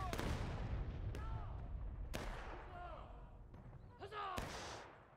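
Sharp, booming musket volleys from War of Rights, the Civil War battle game, ring out at intervals on the Nico Hill map, with reverberant tails and whistling ricochets over a constant rumble of distant fighting.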